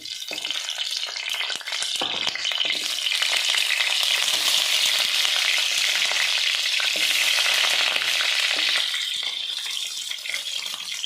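Whole onions fry in hot oil in a pan with a loud, crackling sizzle that swells and stays busy throughout, close up and unaccompanied by talk.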